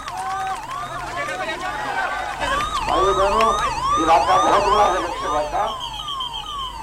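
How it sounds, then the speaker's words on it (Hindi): An ambulance siren wails through a political road show in Haryana, its repeating rising-and-falling tone loud and close over a crowd murmur while someone speaks through an amplified microphone. "एम्बुलेंस आई है, साइड करो, साइड में कराओ, एम्बुलेंस को निकलने दो"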